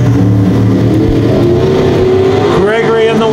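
Canadian modified race cars at Brighton Speedway thunder up the back straightaway in a heat, a loud sustained engine roar with rising pitch as they pass, while a commentator talks over it.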